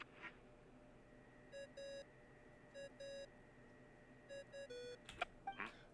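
A faint ringing chime in the Genshin Impact game, with soft repeated tonal beep patterns in short clusters over a quiet ambient background, ending in a few brighter chime accents.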